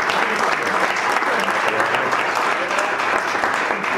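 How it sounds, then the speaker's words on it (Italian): An audience at a round-table discussion on a housing plan applauds, a continuous, dense burst of clapping filling the room, steady and loud from start to finish. "Facciamo un applauso."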